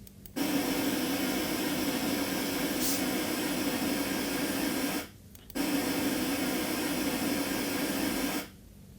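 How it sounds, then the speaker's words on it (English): Steady broadband hiss of pink noise, softer and deeper than white noise, running continuously with two brief gaps of near silence. "And this is pink noise."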